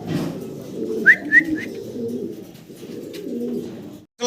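High-flyer pigeons coo close by, a few short throaty calls rising over a low, soft murmur of background noise.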